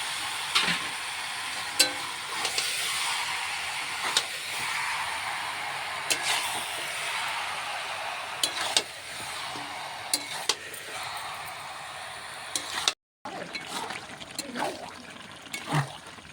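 Chicken meat poured into hot oil while cooking chicken curry, a steady dense sizzle with small pops and stirring clinks, near and continuous, briefly cut off before resuming.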